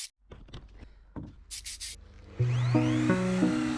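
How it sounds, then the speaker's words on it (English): A drill bit bites into a piece of wood with heavy friction, first a few scattered knocks and scrapes, then a loud sustained whine with a groaning pitch that keeps stepping up and down, close by. "let's get to the loud drilling"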